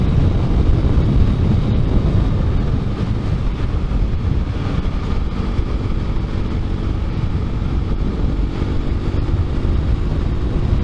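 A 2018 Honda CB300F motorcycle cruises smoothly, its engine drone steady and loud under heavy wind rush throughout, with no talking.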